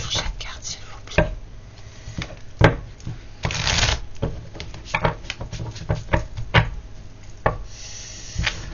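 Tarot cards are shuffled and dealt close up, with riffles, sharp flicks and taps as cards land on a surface in irregular bursts, and a soft voice murmurs faintly in between.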